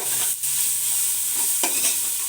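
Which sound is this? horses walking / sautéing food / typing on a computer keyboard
sautéing food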